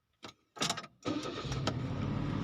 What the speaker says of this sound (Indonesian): Nah, sini mobil menyala.